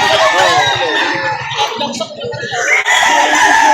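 Roosters crowing and chickens clucking at a busy chicken market in Lipa City, Batangas, with repeated calls mixed into steady crowd chatter and nearby voices talking.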